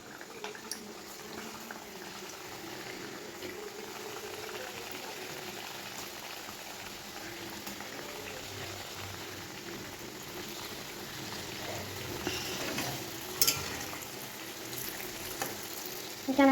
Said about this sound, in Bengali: এই একে একে করে তেলে ছাড়ছে।